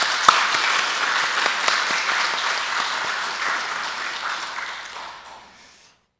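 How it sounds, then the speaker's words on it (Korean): A church congregation at a Sunday worship service claps in thanks, a loud, full round of applause that gradually thins and fades out over about six seconds. "이정수 성도님께도 감사의 박수 한번 드릴까요?"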